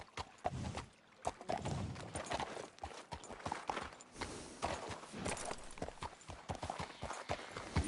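A horse's hooves clip-clop in a PS4 video game, a quick, steady trotting rhythm of crisp hoofbeats heard close and alone.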